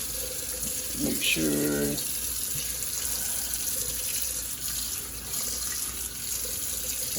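Tap water runs and splashes as a brisket is rinsed in a sink, a steady close gush that continues throughout while someone speaks briefly near the start.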